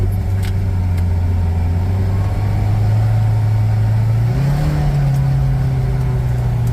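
A Kawasaki Ridge side-by-side in its lower-horsepower, two-wheel-drive version hums steadily up close, its engine note rising partway through as it accelerates.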